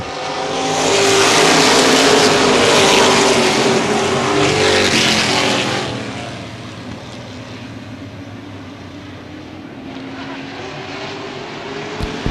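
CRA Sportsman late model stock cars roar off turn four to take the green flag for a 50-lap feature at Baer Field Speedway, a loud, dense wall of engines that swells past, then fades to a steady, more distant drone.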